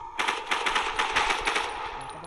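Rapid bursts of video game automatic gunfire rattle steadily for a couple of seconds, crisp and close, with no voices.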